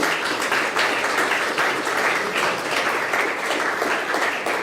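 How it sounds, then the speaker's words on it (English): A large audience at the opening of the Forest and Climate Leaders Partnership applauds in a steady, dense wash of clapping that holds at an even, fairly loud level throughout, with no voices standing out. "I want you to applaud yourselves for being part of this group"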